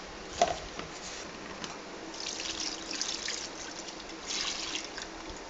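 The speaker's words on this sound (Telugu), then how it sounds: "ఇందులో సరిపడా వాటర్ పోసుకోవాలన్నమాట." Water is poured into a pot of bottle gourd curry, making a soft, continuous trickle and splash that runs for several seconds at low volume, with no voices.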